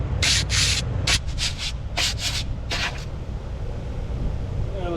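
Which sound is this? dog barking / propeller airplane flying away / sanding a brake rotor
sanding a brake rotor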